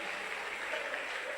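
A church congregation applauding and cheering as groups return to their places, a faint, even wash of clapping with no clear break.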